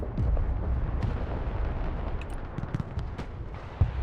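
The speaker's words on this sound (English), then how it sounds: "our allied artillery take it out" Allied artillery fires in a war video game, a dull rumbling barrage with a low booming mass and scattered sharp cracks and pops, fading slightly toward the end with one last thump.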